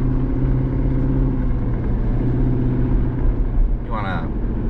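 Corvette engine droning steadily while being driven, a low continuous hum throughout with a brief voice near the end.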